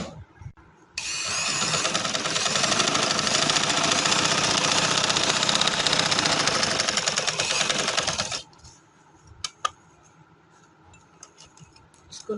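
An electric sewing machine stitches a seam on a designer suit, running as a continuous loud, fast whirring rattle for about seven seconds before stopping, followed by light clicks and fabric handling.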